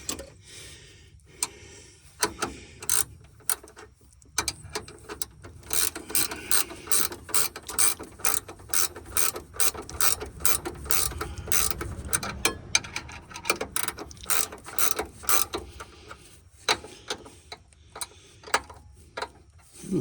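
A ratchet wrench tightens the air shock bolts on an El Camino, giving long runs of sharp, rapid clicks with short pauses between bursts, close and fairly loud with no talking.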